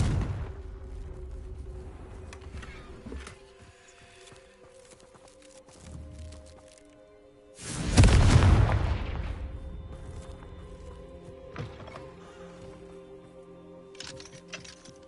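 Confringo blasting spell going off in the video game Hogwarts Legacy: a single loud, deep explosive boom bursts out mid-clip and fades over a couple of seconds, with quieter game ambience and faint clicks around it.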